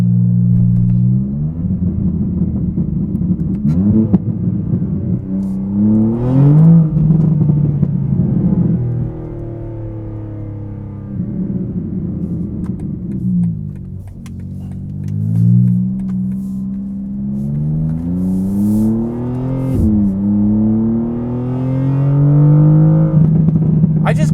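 A 2024 BMW G87 M2 drag build running a wide open exhaust accelerates hard through several gears, its loud raspy engine note rising in pitch, dropping at each shift and climbing again, heard from inside the car.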